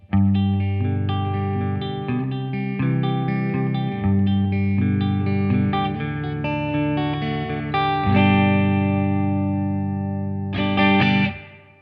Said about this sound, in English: the vintage one is more like a spring reverb